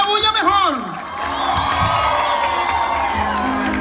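Congregation cheering, whooping and clapping at a lively Christian church service in Codazzi, a loud crowd roar with shouts rising over steady applause, continuous and close throughout.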